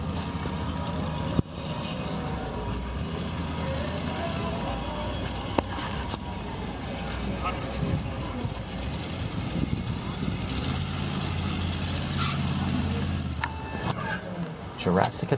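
A Jurassic Attack monster truck engine drones and idles continuously at a steady level, with people talking over it throughout.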